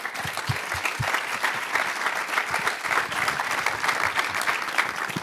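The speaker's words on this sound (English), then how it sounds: "Round of applause for you guys." A conference audience at a startup summit in Zurich applauds a panel, a dense, steady wash of clapping from many hands that continues at full strength throughout, with no speech over it.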